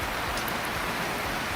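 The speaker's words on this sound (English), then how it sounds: "Hopefully this just gives us enough rain to get out of the drought" Rain falling at a shed construction site, a dense, steady hiss of drops on surfaces, close and uniform for a short stretch without any talk.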